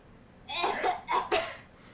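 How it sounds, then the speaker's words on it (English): Someone playing a disease goddess fakes a short run of three or four rough, throaty coughs, close and loud after a brief quiet moment. "when everyone starts coughing"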